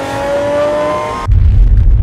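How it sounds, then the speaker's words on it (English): A race car engine revs hard, a high whining note that cuts off abruptly into a loud, rumbling low roar close by, with no talk. "Power and noise of engine."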